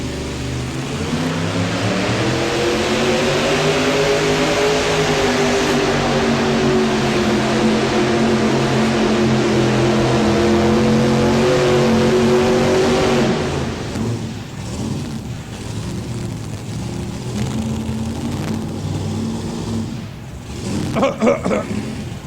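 A mini rod pulling tractor from Illinois roars at full throttle on a 1992 NFMS pull in Louisville, Kentucky, a loud steady engine howl that holds for about thirteen seconds, then drops to a lower rumble.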